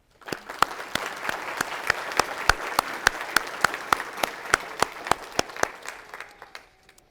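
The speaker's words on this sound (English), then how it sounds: "So I would like to give a round of applause to all the faculty and staff of the department." A small audience at a clinical laboratory science white coat ceremony applauds faculty and staff, with sharp, distinct individual claps ringing out in a steady rhythm over a softer bed of clapping that tapers off.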